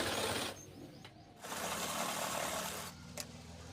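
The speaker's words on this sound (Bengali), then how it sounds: "এই যে এভাবে ডবল সেলাই মেরে দেবো।" A sewing machine double-stitches a pair of half pants in short bursts, its motor whirring close and steady with a brief pause between runs.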